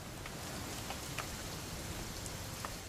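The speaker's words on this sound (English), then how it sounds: "It's gonna rain the whole weekend," Steady rain falls in Remains of Edith Finch, a dense even hiss with occasional distinct drops tapping on a surface, constant throughout with no voices.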